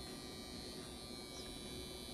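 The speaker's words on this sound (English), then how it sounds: "It makes a zapping sound that scared me, but I don't feel zapping." A NuDerma skin wand running on its lowest setting gives a steady electric zapping buzz, close and continuous throughout with no breaks, like a small shaver motor humming near the face.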